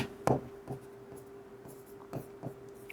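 Step one of an algorithm is being written out during an HSC ICT lesson: faint, scratchy writing strokes with a few soft taps, quiet and close, with no talking.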